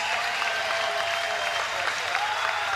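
A boxing crowd applauds and cheers for both fighters after a main-event bout, a dense, steady wash of clapping heard from a distance.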